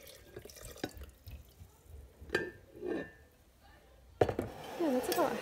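Elderberry kombucha pours into a glass jar with splashes and drips, rising to a steady trickle of liquid near the end, alongside soft handling knocks.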